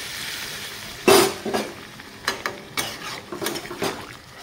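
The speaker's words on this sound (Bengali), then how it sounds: "দিয়ে দিলাম সিদ্ধ করে রাখা আগে থেকে গরম জলটা।" Hot pre-boiled water poured into a pan of vegetable curry with dal bori, a loud splashing sizzle followed by repeated stirring and scraping sounds close by.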